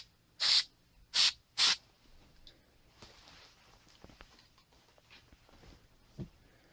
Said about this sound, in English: I'm going to take some rim oil and spray your wire brush with the rim oil